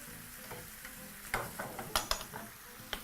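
Food is tossed in a little liquid in a pan while cooking, giving a soft, fairly quiet sizzle broken by several sharp clatters and stirring scrapes over three seconds.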